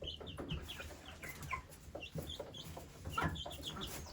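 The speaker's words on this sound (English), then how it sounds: "There's your fresh water, chicky babies." Several chickens cluck and murmur nearby in short, scattered calls, soft and continuous, with no talking.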